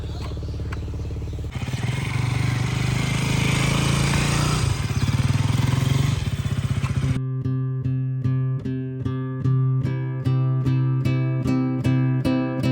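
A motorcycle rides through Yercaud toward the Pagoda viewpoint at sunrise, its engine droning loudly for about five seconds before giving way to rhythmic, evenly spaced electronic beeping pulses.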